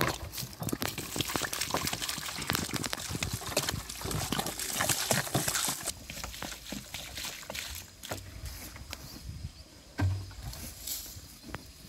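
Plants are watered before being dug up for transplanting, with irregular splashing and pouring of water onto soil and foliage close by, busier at first and then thinning out with scattered drips and spatters.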